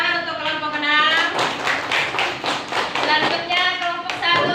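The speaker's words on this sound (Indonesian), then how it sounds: "Tepuk tangan untuk kelompok 6." Classroom applause for a student group presenting, a dense crowd of hand claps sustained for several seconds at steady loudness, with talk blended underneath.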